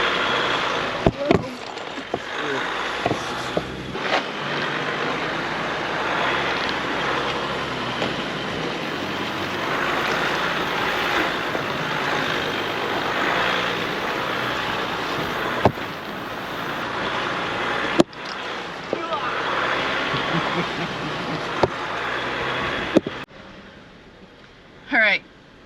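A Jeep grinds up a rocky off-road hill climb on a Wyoming backcountry route, a sustained engine drone with rattles, clunks and sharp knocks from the rough trail, under talk from the occupants, easing off near the end.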